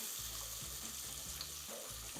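Chopped onion sizzling in a pan for a smoked pine nut risotto, a steady close frying hiss with a low hum and occasional stirring scrapes, no voices.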